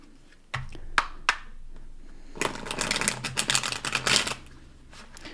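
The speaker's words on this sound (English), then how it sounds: "We're going to give that another shuffle and shake, as they say." Cards riffled and shuffled close by: a few sharp taps, then a long dense burst of flapping cards that trails off, with no voices.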